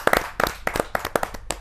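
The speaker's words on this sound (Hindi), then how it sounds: "जोरदार ताली के साथ रसिक गुप्ता जी का स्वागत।" Brief burst of audience clapping greeting poet Rasik Gupta at a Hindi kavi sammelan, a handful of sharp close claps in an uneven rhythm over about two seconds.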